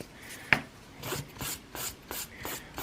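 A nail file rubs gently over a fingernail surface, smoothing it during a clingfilm milk-bath nail design, in a series of soft, close rasping strokes with a sharper scrape near the start.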